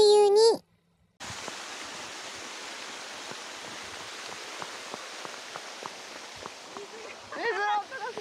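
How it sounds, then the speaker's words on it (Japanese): Loud, steady rushing water beside a mountain road near Yamaguchi City, likely a stream or waterfall, roaring continuously after a short pause, with brief voices at the start and end. "水の音がすごい"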